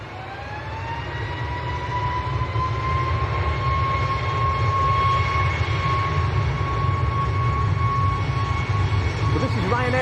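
Ryanair airliner bound for Rome at Manchester Airport, a steady loud jet engine roar with rising turbine whine, continuous throughout with faint talk underneath.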